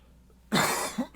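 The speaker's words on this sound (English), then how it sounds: "Cough away from the mic." A single close, loud cough right by the microphone, followed by two short throat-clearing bursts, in an otherwise quiet room.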